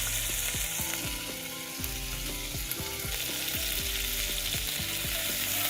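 Steady crackling sizzle of chicken frying in a hot pan with ginger-garlic paste, with scattered pops and a few stirring scrapes, close and continuous.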